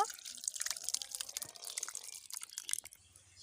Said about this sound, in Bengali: এদিকে একটা পাত্রের ওপরে ছাকনি নিয়েছি ছানাগুলো জল ঝরিয়ে নেওয়ার জন্য এই পাত্রে ঢেলে নেব